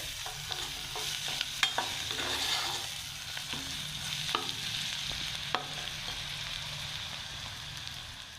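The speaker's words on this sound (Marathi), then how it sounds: "आणि ह्यालासुद्धा आपण चांगल्या प्रकारे मिक्स करून घेऊया" A spice mixture for prawn biryani is stirred in a hot pan, with a steady crackling sizzle under repeated scraping clicks from the spoon working through the masala.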